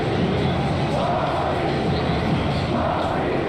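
A dense, loud roar of a large football stadium crowd in a video game, constant and unbroken, with indistinct chanting and cheering blended together.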